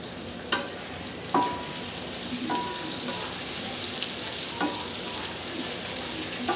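Peppers sizzle in a hot pan while deer meat is being cooked, a steady crackling fry with a few sharp clicks of stirring, close and alone with no talk.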